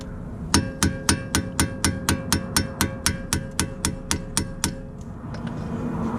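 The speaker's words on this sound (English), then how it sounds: "get yourself one of these impact screwdrivers. This works where you turn with one hand and you hammer with the other." Hammer blows on an impact screwdriver loosening a brake rotor screw on a 2016-2020 Honda Civic, about sixteen sharp, evenly spaced metallic strikes in a quick steady rhythm, then a quiet pause.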